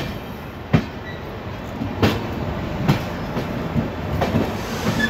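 Deccan Queen Express train 12124 running from Pune to Mumbai, heard from inside with a steady rolling rumble and periodic loud clickety-clack wheel beats over rail joints, no talking.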